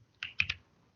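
Three quick, crisp keystrokes on a computer keyboard, close and isolated in an otherwise quiet room.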